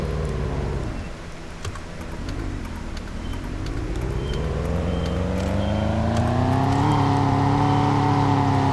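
A car engine starts up and revs in a driving video game, a loud close engine note that dips, then climbs steadily in pitch as it accelerates, with no talk over it.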